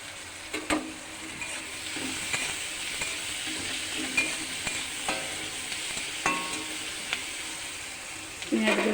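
Onions with salt frying in a pan, a steady broad sizzle with occasional stirring scrapes and clinks, moderately close, without talk.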